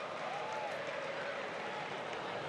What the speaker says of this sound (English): You can hear the St Helens fans singing and the expectant crowd.